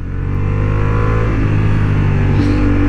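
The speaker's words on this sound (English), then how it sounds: "especially when you're going from fourth to third and from third to second. Very nice, the quick shifter" A Honda Hornet 750 roars at high revs on a racing track, a loud, close, continuous engine drone whose pitch steps slightly as the quick shifter drops a gear, with no talk.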